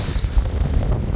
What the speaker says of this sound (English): It's a windy day and it's cold